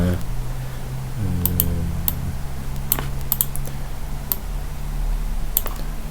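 Sparse, sharp computer mouse clicks, about a dozen single and paired ticks spread irregularly over a low background hum, with no talking.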